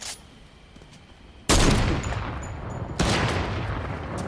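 Video game gunfire erupts in two loud bursts, a sudden heavy volley followed by sustained rapid shooting and a second volley, dense and close with no talk.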